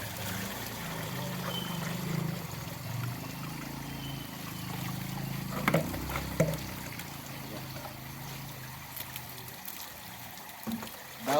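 Water running through a sieve while rinsing daphnia gives a soft, continuous trickling and splashing, with a few sharper knocks, under someone talking intermittently.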